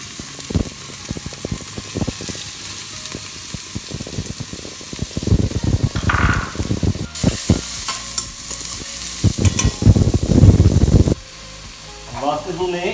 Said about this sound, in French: Donc on part bien sûr avec les oignons, on va faire un peu suer.